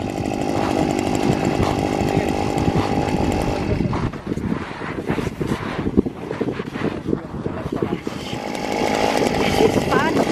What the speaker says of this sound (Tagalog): gumagawa po sila ng butas gamit ang napakalaking drill